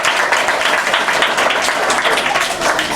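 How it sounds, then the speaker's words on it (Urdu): Dense, steady audience applause fills a debate hall, many hands clapping together at close range with no pauses. "اس ایوان میں جتنی بھی تالیاں بجیں ہر تالی میں ایک جذبہ ہے"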